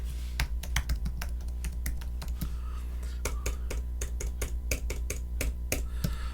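Quick, close clicks of typing on a computer keyboard come in uneven bursts over a steady low electrical hum.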